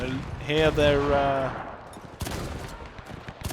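WW1 battlefield gunfire in Between Empires, scattered rifle and machine-gun shots crackling in the background, partly beneath a voice early on, then sharper bursts later.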